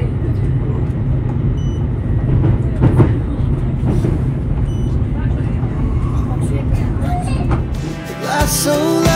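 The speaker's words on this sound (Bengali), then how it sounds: "বাজে এখন 12টা, একদম ডট টাইমে ট্রেনটা ছেড়ে দিল।" A train heading from Scotland to London King's Cross gives a steady rolling rumble with faint rhythmic clicks of the rails, heard from on board. Music and voices come in near the end.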